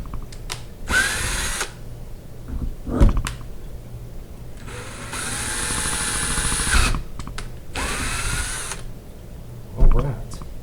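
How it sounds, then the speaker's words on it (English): A handheld power drill bores holes into a DIY motorcycle luggage case. It runs in several loud whirring bursts with short pauses and a clack between them, close by. "we're going to mark our holes with our drill"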